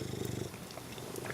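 A domestic cat purrs up close in a soft, continuous rumbling rhythm of quick pulses, heard alone and fairly quiet.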